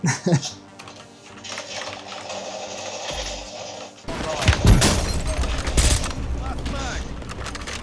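Rapid gunfire in Call of Duty played on a gaming PC, with dense bursts of shots and clattering effects that become loud and continuous in the second half, mixed with game music and a voice.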